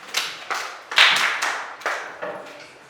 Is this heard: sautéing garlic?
no